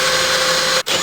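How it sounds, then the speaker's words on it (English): A power drill whines at high speed, boring a 4mm hole steadily through plywood into a metal roof beam, then briefly cuts out near the end before spinning up again. "I start off by drilling a 4mm hole all the way through the ply and into the metal roof beam"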